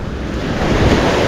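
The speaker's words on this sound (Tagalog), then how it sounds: "Yung tabing dagat." Sea surf rolling onto a beach crowded with swimmers, a steady close wash of breaking waves with heavy wind buffeting the microphone throughout.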